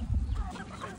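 Chickens, including a bantam, clucking close by on a farm, a quick low burst of clucks and soft throaty calls in a brief moment, with no talking over them.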